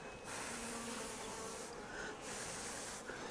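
Honey bees buzzing in an open hive, a dense continuous hum of many bees close by, swelling and easing slightly, with no talking.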